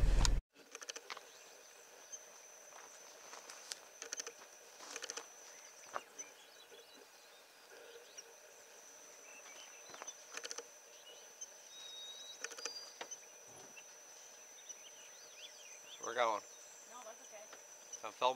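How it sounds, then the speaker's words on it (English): Bugs buzz and chirp outdoors around a camera, a faint steady insect drone with scattered clicks and brief flutters close to the microphone. "Filming the bugs."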